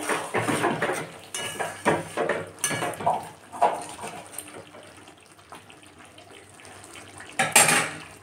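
A bowl is washed under a running kitchen tap: close clinks and knocks of the dish against the sink mixed with splashing water, busy at first, quieter in the middle, then a final loud burst of rinsing.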